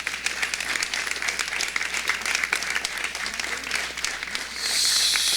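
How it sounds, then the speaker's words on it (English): An outdoor crowd applauds at the Illinois State Fair 2024 ribbon cutting ceremony, dense continuous clapping from many hands, followed by a louder burst of bright noise near the end. "So let's give them all a big round of applause."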